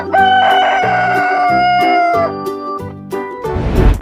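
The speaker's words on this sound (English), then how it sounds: "Hen." A chicken calling loudly and close by, a series of drawn-out tonal crowing and clucking phrases in quick succession, ending in a rougher, noisier burst.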